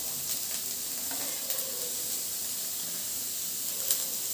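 Cabbage, carrot and beans stir-frying in a pan for spicy Schezwan fried rice, a continuous close hiss with a few brief sharp crackles as the vegetables hit the heat.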